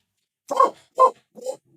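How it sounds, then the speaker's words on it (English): A dog barks three times in quick succession, close by and fairly loud, with short gaps between the barks and silence around them. "The dog's barking."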